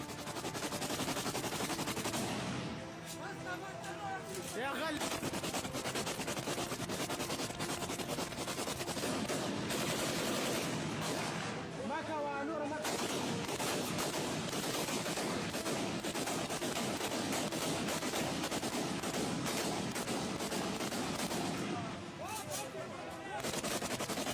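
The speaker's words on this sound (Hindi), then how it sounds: "अचानक हुई फायरिंग के बाद भगदड़ भी मच गई और लोग दंग रह गए।" Sudden gunfire crackles in rapid, sustained bursts at a gathering, loud and dense, with brief lulls between volleys and a constant wash of noise throughout.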